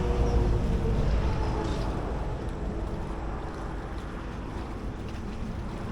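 Gusting wind over choppy water, heard from a small boat out among lobster traps: a steady, loud rushing roar with low rumbling buffeting that eases slightly over time, with no talking.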